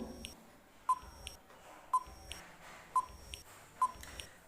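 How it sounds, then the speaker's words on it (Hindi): A quiz countdown timer beeps four times at an even one-second pace, short clear electronic tones over a quiet background. "इसलिए हम टाइमर लगाए हैं"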